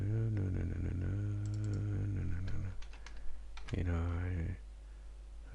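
Clicks from typing a name on a computer keyboard come in short bursts under a person talking, with the voice dominating and the keystrokes light and close.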